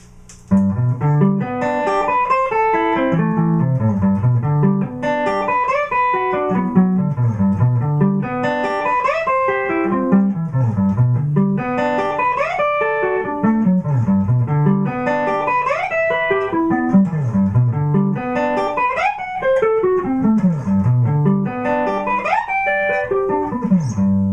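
Rapid electric guitar arpeggios sweep up and down in repeating cascades, fast and evenly paced, played clean and close with no talking.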